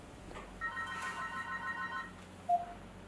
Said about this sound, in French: Après plusieurs tentatives, celui-ci finit par décrocher le téléphone.